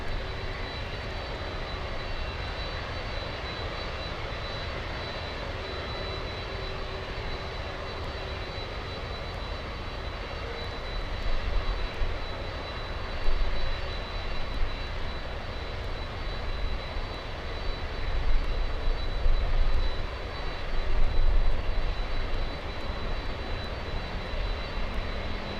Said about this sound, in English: Little E175 seconds away from landing.